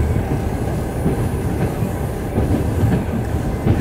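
Russian long-distance Rossiya passenger train on the Vladivostok–Moscow route rolling over rails approaching a bridge across the Selenga River in Buryatia, a steady loud rumble with clickety-clack of wheels, recorded from inside a carriage.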